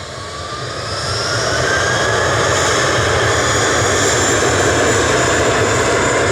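Jet engines of an aircraft at Manchester Airport roar loud and steady, the broad rumble swelling during the first second and then holding strong, with no talking.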